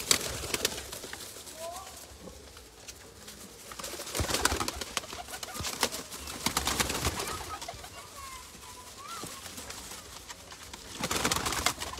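Taddy pigeons cooing in soft repeated calls, mid-distance, mixed with rustling and other bird sounds while people talk in the background.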